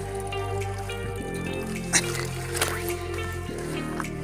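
Water from a small forest spring crossing a trail trickles and drips steadily close by, with a faint low hum and a couple of brief soft splashes.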